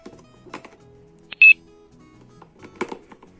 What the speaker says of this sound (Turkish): Okutayım hemen onu ben bir bip yapayım.